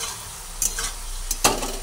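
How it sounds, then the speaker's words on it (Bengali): Vegetables mixed with sattu are stirred in a pan for a Bengali vegetable dish, with a soft frying hiss and two or three quick, close scraping strokes of a spatula. "ছাতুটা দেওয়ার পরে আবার ভালোভাবে নাড়াচাড়া করে দিই।"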